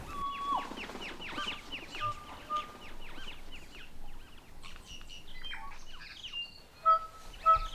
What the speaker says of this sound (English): Sounds like kōkako.